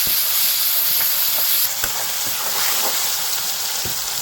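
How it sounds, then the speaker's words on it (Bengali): Tomatoes are added to fried onion and garlic in a pan for a liver biryani, giving a loud, steady hiss of sizzling with faint scraping stirs underneath. "এবারে টমেটো দিয়েও আবার একটু ভালো করে ভেজে নেব"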